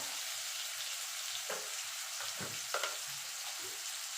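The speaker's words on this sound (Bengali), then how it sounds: "টমেটোটা গলা পর্যন্ত এটা নাড়াচাড়া করবো, মানে টমেটোটা গলা পর্যন্ত রান্না করে নেবো।" Tomatoes cooking in a pan for a mixed vegetable dal, under a steady bright sizzle with a few soft spatula scrapes and stirring knocks scattered through, close and moderately quiet.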